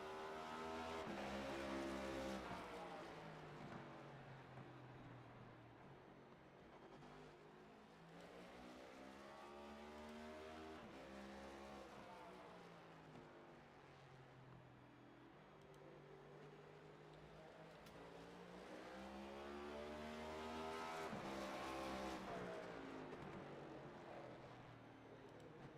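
A race car in iRacing laps Martinsville's short oval, its engine droning steadily with rising and falling pitch as it accelerates down the straights and lifts through the turns, growing louder and fading across repeated passes.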